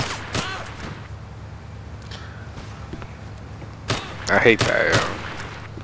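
Gunfire rings out in GTA IV with the LCPDFR police mod: a few sharp, scattered shots, with a tighter burst near the end. Someone talks over the action.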